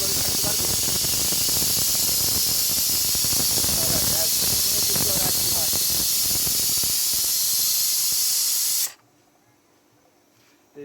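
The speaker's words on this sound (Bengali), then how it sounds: "এখন এই যে একটা শীষ প্রায় উঠে গেছে" A pressure cooker with bottle gourd inside releases steam through its whistle in a loud, continuous hissing spray that lasts about nine seconds and then cuts off abruptly into near silence.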